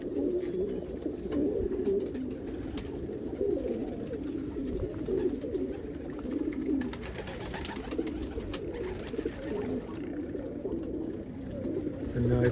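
Homing pigeons coo steadily inside a loft on a warm afternoon, with overlapping soft throaty calls from several birds close by and continuing without a break.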